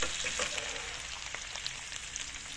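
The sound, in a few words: food frying in pan until browned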